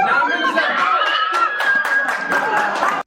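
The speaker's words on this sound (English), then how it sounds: "Are y'all clapping now?" A crowd claps together at a public town meeting, a dense, steady patter of many hands that holds at full volume for about three seconds and then stops abruptly.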